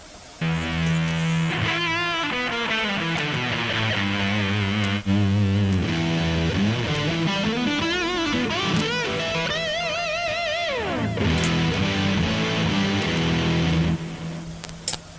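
An electric guitar with its drive effect cranked fully up plays a loud, steady stream of heavily distorted riffs and sustained notes, with a thick, saturated tone that fades out briefly at the end.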